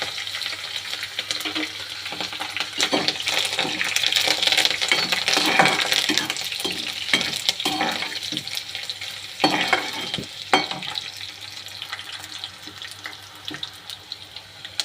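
Urad dal frying in hot oil in a pan while a spoon stirs it, giving a steady close sizzle with scraping and clinking strokes throughout, loud and unbroken, no talking.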